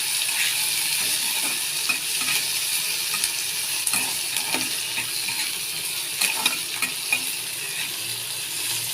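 Chopped onion and tomato fry in hot oil with a constant close sizzle. Scattered clinks and scrapes of a spatula stirring the pan run throughout, with no one speaking.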